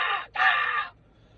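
Two harsh, raucous bird calls ring out close and loud, the first short and the second longer, with quiet after; they suit seagulls calling.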